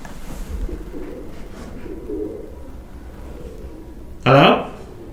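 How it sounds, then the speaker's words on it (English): Pigeons cooing inside an abandoned building, faint and somewhat distant under a low ambient hum, with a sudden louder flutter or call burst near the end. "Could have been the pigeons."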